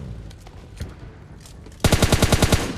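Automatic gunfire in the mobile battle royale game PUBG Mobile Lite: a rapid burst of about eight loud shots in even rhythm, following quieter game ambience with faint distant pops.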